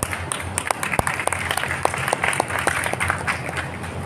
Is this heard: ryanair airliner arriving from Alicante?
no